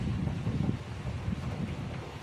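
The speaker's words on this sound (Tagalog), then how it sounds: "ang lakas talaga ng hangin" Strong typhoon wind buffets and roars continuously across the microphone, a dense rushing noise without pauses.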